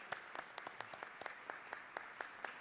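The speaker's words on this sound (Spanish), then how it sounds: "que se paren los señores concejales para darle un aplauso" Audience applause for city councillors at a public event, faint, distant steady clapping with crisp individual claps in a loose rhythm, heard alone.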